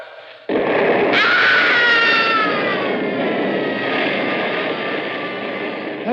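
A loud roaring explosion from a released charge erupts and sustains, with a man's high wailing scream rising through it, dense and close, slowly easing off.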